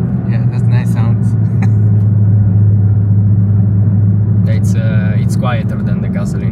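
A European-spec Suzuki Swift Sport engine runs with a steady, low, continuous rumble. People talk over it throughout.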